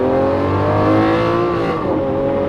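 A Lamborghini Aventador engine drones loud and close, its tone holding steady and then dipping briefly before rising again.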